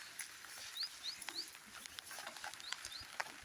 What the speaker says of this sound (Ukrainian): Послухайте, як дужчик тарабанить.